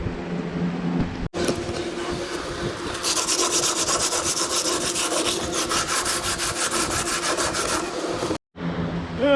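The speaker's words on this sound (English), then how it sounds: "while we go ahead and start sanding" Sanding bodywork on a Cutlass trunk frame being prepared for fiberglass, a loud, close, continuous rhythmic scraping with rapid back-and-forth strokes, briefly cut by two short pauses, with no talk.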